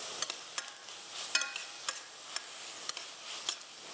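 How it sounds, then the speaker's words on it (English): Chopped onions softening in a pan for meatloaf get stirred, a quiet bed of sizzle broken by a series of sharp scraping clicks from the utensil at irregular intervals, with no speech. "Give these a quick little stir."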